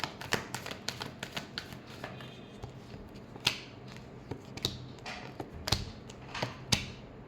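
Tarot cards being shuffled close by, a run of crisp papery taps and riffling flicks with several sharper snaps, irregular and fairly quiet, no talk.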